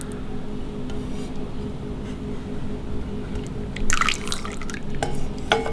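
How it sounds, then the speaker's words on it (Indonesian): Hot jelly mixture poured into cups, with a steady liquid trickle and a few sharper splashes and drips near the end, close and moderately loud with no talk. "kita tuang cetakan"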